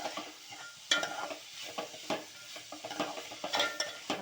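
Prawns sautéing in a pan for a curry, a quiet background sizzle with irregular spoon scrapes and light metal clinks against the pan, close by with no talking.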